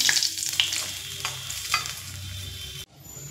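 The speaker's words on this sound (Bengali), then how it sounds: "এবার একটি পাত্রে তুলে নেব আর অন্য মাছগুলো একইভাবে ভেজে নেব" Rohu fish pieces frying in hot oil, a bright, steady sizzle with occasional spatula scrapes, cutting off abruptly near the end to near quiet.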